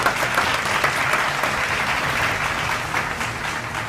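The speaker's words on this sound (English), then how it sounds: "A round of applause to both schools again, please." An audience at a secondary-school debate competition in Abia State gives a sustained round of applause, dense and even clapping filling the room for several seconds with no talk over it.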